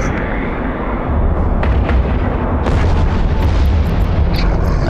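Ship weapons opening fire in the space game EVE Online, a dense, loud, continuous booming barrage with repeated sharp impacts layered on top, close and without pause.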